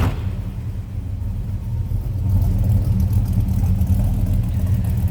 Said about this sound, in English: Nice little deep rumble coming out of that 350.